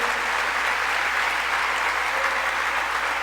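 A church congregation claps its hands in steady, sustained applause during a worship service, a dense and even clatter that fills the whole stretch with no talk over it.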